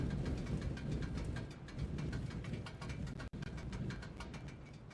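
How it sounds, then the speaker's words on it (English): Car exhaust from a racing simulator video game plays as a steady mechanical engine drone with rapid rhythmic pulsing, moderately quiet, with one brief dropout partway through. "You can hear the exhaust kind of."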